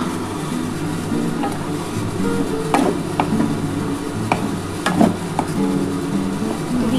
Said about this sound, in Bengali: এবার আমি এই চিকেনটা দিয়ে দিলাম।